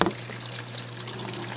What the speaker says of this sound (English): the water coming in on the right side up there